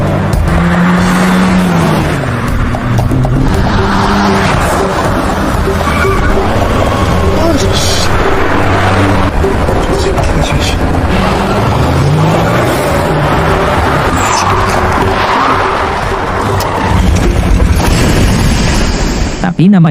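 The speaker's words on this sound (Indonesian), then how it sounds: "Lee mengejar Pansu dengan mobil pinjamannya" An old borrowed car roars through a chase as its engine revs hard and its tires squeal in sweeping pitch slides, with loud impacts and booms mixed into a dense, continuous scene under voices.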